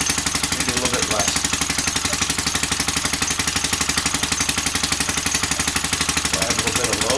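An electric generating plant engine running at about 1400 RPM, a loud, rapid, even chugging pulse that holds steady throughout, heard up close.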